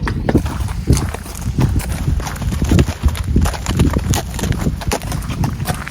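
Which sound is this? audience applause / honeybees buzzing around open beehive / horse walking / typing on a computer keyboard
horse walking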